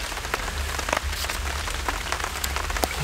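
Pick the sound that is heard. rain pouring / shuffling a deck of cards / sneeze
rain pouring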